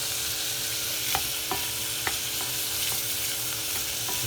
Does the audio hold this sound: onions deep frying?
yes